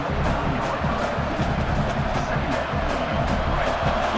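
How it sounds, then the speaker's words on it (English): Stadium crowd noise in the EA Sports College Football 27 video game: a continuous roar of cheering fans with a surging, energetic wash, with a commentator's voice over it. "Listen to the crowd energy here in the early going."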